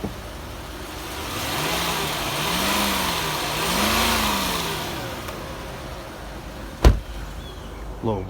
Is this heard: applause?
no